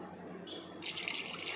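Water pours into a pot of simmering country chicken curry, a soft, steady splashing stream that grows fuller partway through, heard close and alone.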